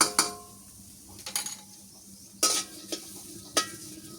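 Chopped onion and green chilies fry quietly in a pan, broken by a few sharp scrapes and clinks of a spoon stirring against the metal, with no speech.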